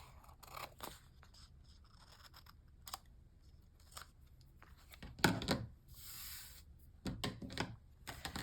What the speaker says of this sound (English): then you just want to come in with your scissors and cut the corners at an angle.